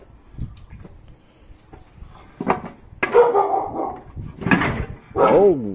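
A dog barks close by, quiet at first and then in loud, tonal barks that grow more insistent toward the end.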